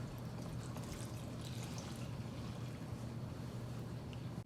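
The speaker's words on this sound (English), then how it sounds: "And we mix in a cup of water." Water poured from a cup into buttermilk pancake mix in a home kitchen, a steady close splashing pour running unbroken and fairly loud with no talk.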